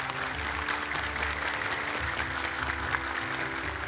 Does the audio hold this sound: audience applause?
yes